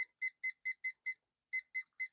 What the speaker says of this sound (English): So we get ready to start this timer.